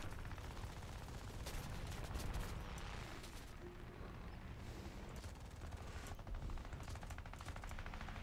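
Aircraft guns fire in the combat flight game War Thunder, with quiet rattling bursts of machine-gun fire over a constant engine drone, one burst early on and another later.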